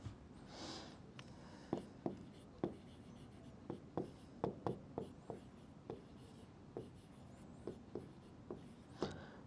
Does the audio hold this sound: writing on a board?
yes